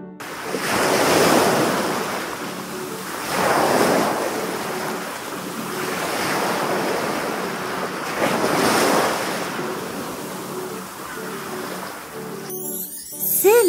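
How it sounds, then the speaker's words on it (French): Ocean surf rolling in with several broad, swelling waves washing ashore, each rising and fading, with steady wind noise in the background. "C'est le bruit des vagues."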